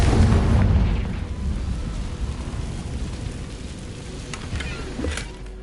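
A Confringo blasting curse from the Hogwarts Legacy video game goes off as a loud, deep booming explosion with a heavy low rumble, then a crackling, debris-like wash that lingers and flares once more near the end.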